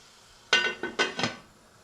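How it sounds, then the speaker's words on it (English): A lid is set onto a cooking pan in a home kitchen, giving a few sharp metallic clinks and rattles over roughly a second, close and fairly loud with no talking. "let's put the cover on and let that cook."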